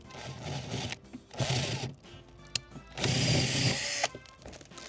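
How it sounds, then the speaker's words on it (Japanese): A power drill bores into the hard metal body of an old Porsche, widening a hole in loud grinding, whirring bursts that stop and start with short pauses. "もう一回穴を広げてきます"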